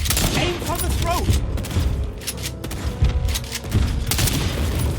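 A sniper rifle in the online shooter game Second Extinction fires repeated sharp cracking bursts mixed with booms and rapid gunfire, loud and close, while someone talks excitedly over the action.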